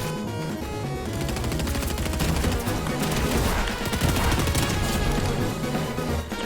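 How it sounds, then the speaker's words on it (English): A shotgun fires in the video game Fortnite amid a dense, loud stretch of rapid gunfire and combat effects that continues without a break. "Let's test the shotgun damage because this guy isn't paying attention"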